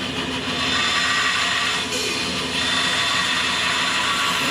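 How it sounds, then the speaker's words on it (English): A bandsaw cuts steadily through a wooden acoustic guitar neck, giving a loud continuous whine and rasp with a brief dip midway as the blade works along the wood. "as the bandsaw glides through this part of the neck"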